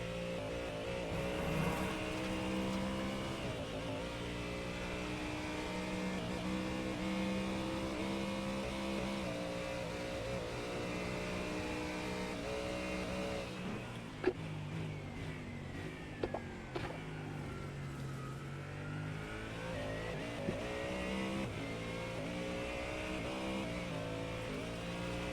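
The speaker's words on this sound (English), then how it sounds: "What is going on with these engine noises?" Race car engines in the iRacing simulator drone steadily with layered harmonic whine, then shift and rev with pitch sweeps and sharp gear-change cracks, loud and close throughout.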